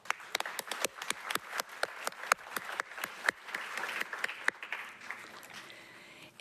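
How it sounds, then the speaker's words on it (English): An awards event audience claps for local businesses: a moderate, fairly small crowd with distinct individual claps, strong at first and then tapering off toward the end. "Every business in this category deserves a round of applause for making Port Moody look good."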